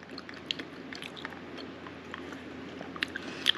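Crunchy tapioca pearls from a taro-flavored drink chewed close to the mic, quiet irregular biting and crunching clicks over a soft background, with no one speaking.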